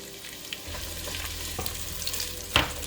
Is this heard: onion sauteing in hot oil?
yes